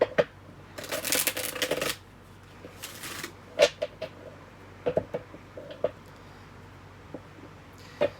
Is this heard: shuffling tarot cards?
yes